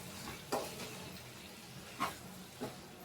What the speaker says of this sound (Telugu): ఆ ఆయిల్ అనేది ముక్కలకి పట్టేట్లా బాగా కిందికి మీదికి బాగా షేక్ చేయండి.